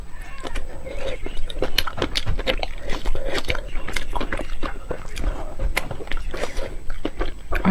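Sticky bean buns (nian dou bao), soft glutinous dough filled with bean paste, being bitten and chewed up close in a steady run of moist chewing and mouth sounds with a few crunchy clicks, no speech.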